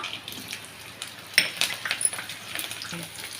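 Pepper and garlic frying in a pan for a manathakkali thuvaiyal, a soft, steady crackling sizzle with a few brighter pops and stirring scrapes partway through, close by and without talk.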